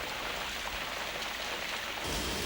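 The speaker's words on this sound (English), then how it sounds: "At other times, it's only a drizzle." Light drizzle in Singapore, a soft, even hiss of rain falling steadily and fairly quietly throughout, with a slight lift in level near the end and no talking.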